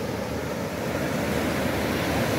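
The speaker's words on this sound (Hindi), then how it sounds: "वेव देखो बड़ी बड़ी वेव आ रही है।" Large ocean waves break and wash onto a beach at Jeffrey's Bay, a continuous loud roar of surf with wind noise across the microphone.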